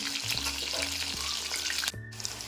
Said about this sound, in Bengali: এইভাবে উল্টে পাল্টে 2 মিনিট ধরে আমি পকোড়াগুলোকে মিডিয়াম ফ্লেমে ভাজব।